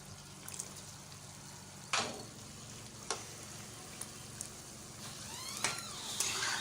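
Potato and onion cooking in hot oil in a wok, a quiet steady sizzle with a few sharp clinks and stirring scrapes.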